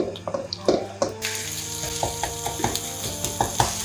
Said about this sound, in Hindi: इसको हम फ्राई कर लेंगे